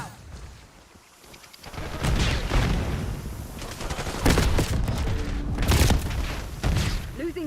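Frag grenade explosions in a competitive shooter match crack out as several loud booms and gunfire bursts, layered over continuous game audio.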